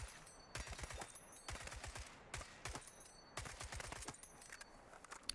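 Bursts of automatic rifle fire from a video game weapon, several rapid volleys of sharp cracks with short pauses between, loud and close with no talk over them.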